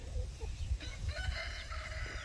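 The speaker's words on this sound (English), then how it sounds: "You remember the little duck we had?" A small injured duck with a damaged beak gives short, soft calls in a brief, noisy outdoor scene, the calls faint and scattered over a steady low rumble.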